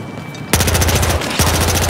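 Two rapid bursts of P90 submachine gun fire in the video game Battlefield Hardline, loud and close, with a brief pause between them.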